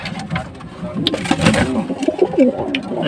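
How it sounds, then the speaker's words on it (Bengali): Pigeons in a loft cooing near at hand, a series of low throaty rolling coos with some rustling and wing movement, a voice briefly heard underneath. "এই পায়রাটা এই বালি পায়রাটার সঙ্গে জোড়া নিয়ে মিষ্টি পাপির বউ ওই যে ডিম দিয়েছে"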